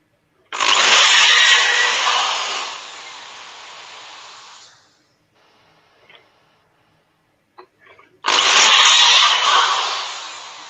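A drill whines loudly for a few seconds, stops, faint clicks and handling follow, then the drill starts up again briefly.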